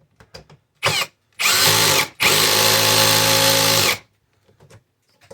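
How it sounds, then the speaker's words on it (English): A brushless screwdriver drives a refrigerator door handle screw in two strong whirring bursts with a short pause between, after a brief first spin and some faint handling clicks. "This is a brushless screwdriver, so kind of acts like a hammer"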